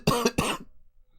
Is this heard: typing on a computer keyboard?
no